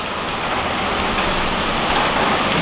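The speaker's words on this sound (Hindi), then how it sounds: "इतनी तगड़ी वाली बारिश हो रही है यहाँ पे" Heavy, torrential rain during a cloudburst in Jammu, a dense, steady broadband roar of downpour with no gaps, loud and close throughout.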